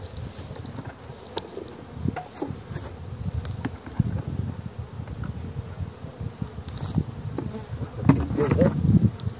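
Honeybees in an opened hive during a spring inspection give off a steady, dense buzzing hum, with occasional louder passes as bees fly close. Soft handling noises sit under the buzzing.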